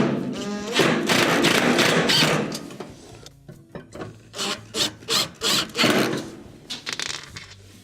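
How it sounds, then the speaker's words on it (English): Screws being driven back into the bottom of a Whirlpool stove's oven, heard as close rubbing and scraping at first, then a run of short rhythmic knocks and thumps of metal and wood. "reinstall your 2 bottom screws."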